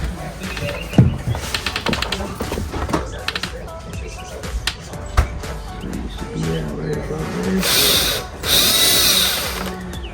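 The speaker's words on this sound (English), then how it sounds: "Now I'm gonna go ahead and start pre-drilling." A power drill pre-drills holes while a storm door is being fitted, with repeated short whirring bursts and knocks, then longer high-pitched runs near the end, close and loud.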